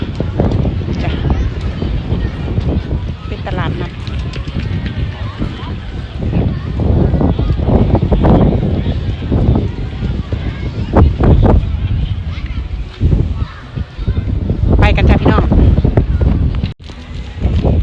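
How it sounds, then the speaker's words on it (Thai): Wind buffeting the microphone at an outdoor market abroad, a loud constant roar across the whole span, with a voice talking throughout over it. "แต่ว่ามีลมมีลมนะคะ"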